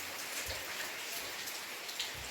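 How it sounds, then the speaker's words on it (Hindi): Steady morning rain falls on outdoor surfaces, a dense, even patter of drops with soft low thumps, continuous and alone with no voices. "8 बजे और अभी बारिश हो जाए।"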